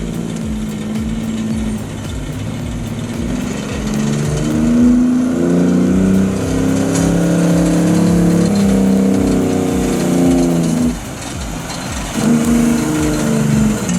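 A Kenworth T659 logging truck loaded with big logs, its diesel engine growling loud and close, rising in pitch through gears as it climbs a hill, with a short drop between shifts.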